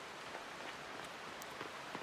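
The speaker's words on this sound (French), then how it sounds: "Tu aimes les jours de pluie? Chaque goutte d'eau est un cadeau du ciel." Rain falls steadily in the farming video game Fae Farm, a soft, even patter of drops with occasional slightly sharper taps, faint and continuous with no voices.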